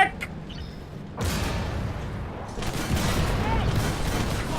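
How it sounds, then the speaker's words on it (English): Gunfire in the tank combat game Armored Warfare, dense overlapping bursts of shots and impacts rising in loudness after the first second and continuing steadily to the end, with game effects blending together. "Why are they all shooting me?"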